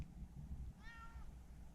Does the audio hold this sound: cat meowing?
yes